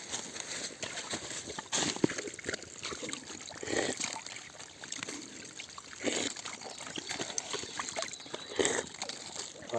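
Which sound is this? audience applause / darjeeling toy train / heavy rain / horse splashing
horse splashing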